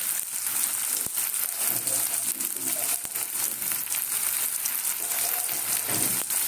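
Prawns and banana flower fry in a pan with a steady, close sizzle and occasional crackle throughout, with no one talking over it.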